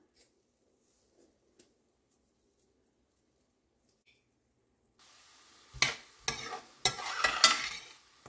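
Vegetables hit a hot pan and start sautéing, with a soft sizzle under several scraping stirs that come in bursts after a quiet stretch of faint clicks.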